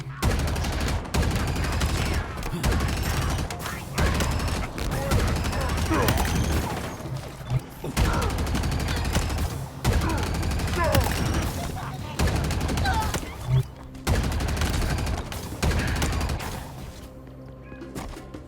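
Gunfire in the game Halo Infinite comes in rapid repeated bursts of automatic shots with heavy impacts, broken by brief pauses, loud and close throughout the fight.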